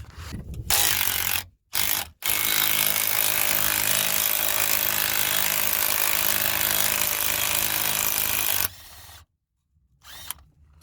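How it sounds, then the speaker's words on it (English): Hand tools working loose a ball joint nut on a Peugeot 206 suspension arm, a 17mm spanner holding one side while a 16mm socket turns the other, making loud continuous grinding, scraping metal noise with brief pauses. "spanner to lock it, and then 16mm socket to be used on the other side to untighten the ball joint nut."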